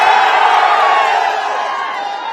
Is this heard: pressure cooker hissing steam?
no